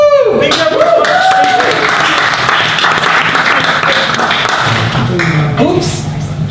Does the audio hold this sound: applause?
yes